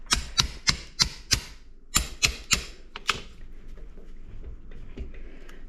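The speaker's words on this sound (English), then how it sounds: "I should chip some of that away so it seats best" Sharp chipping strikes knock bark off a walnut log mounted on a lathe. About ten crisp hits land in two quick bursts, close and distinct, then fade into faint scraping.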